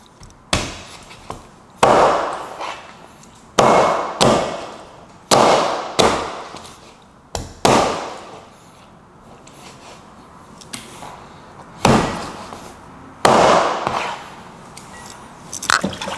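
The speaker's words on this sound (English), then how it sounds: "So we're chopping our chicken back down to the required size that we need." A heavy knife chops through chicken back on a cutting board in loud, sharp strikes, about ten of them spaced a second or two apart, each with a brief ringing decay, close and with no talk.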